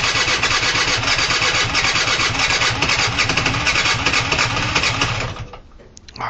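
A cold scooter engine catches and runs with a loud, rapid, buzzing putter close by, holding steady for about five seconds before cutting off abruptly.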